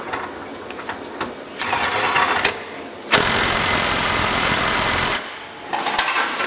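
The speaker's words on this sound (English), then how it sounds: "Now we're going to reverse the order and tighten it down with the 7150." An Ingersoll Rand W7150 20V lithium 1/2-inch cordless impact wrench tightens a nut. Short rattling bursts come first, then one loud, steady hammering run of about two seconds, followed by a brief quieter whir.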